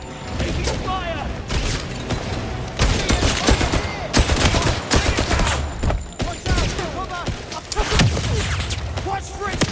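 Heavy gunfire in the 007 First Light video game: repeated loud bursts of automatic shots and booms run through the whole stretch, with shouted voices mixed in.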